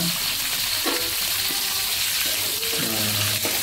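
Duck curry with bay leaves and cinnamon being stirred in a pan, a steady close frying hiss with scraping strokes of the spoon and a few soft clinks, no voices.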